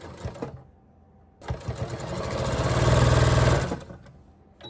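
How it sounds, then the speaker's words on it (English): A sewing machine stitches a quarter-inch seam on a quilt block: a short burst of stitching, a pause, then a longer run that speeds up into a steady whirring chatter before slowing to a stop. "I'm just going to take that to the sewing machine and I'm going to sew down 1/4 inch all the way down"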